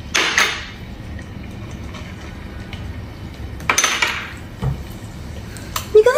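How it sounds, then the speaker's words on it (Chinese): Scallion, ginger and garlic stir-fried in a hot oiled wok at home, heard as a low sizzle under sharp metallic clanks and scrapes of a spatula against the pan, no talking. "葱姜蒜放上去爆香"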